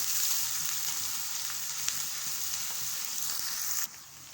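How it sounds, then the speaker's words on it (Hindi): Ginger-garlic paste sizzles steadily in a hot pan, a bright crackling fry that cuts off abruptly near the end. "अदरक लहसुन को हमने इतना फ्राई करना है कि अदरक लहसुन की जो स्मेल होती है वो ख़त्म हो जाए"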